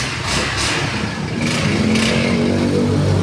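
A Honda Click V3 automatic scooter engine runs close and loud after starting, a steady mid-pitched clattering hum with no one talking.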